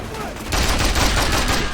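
Rapid gunfire in the Mercenaries 2: World in Flames shooter, a sudden loud burst of overlapping automatic shots starting midway and rattling on to the end.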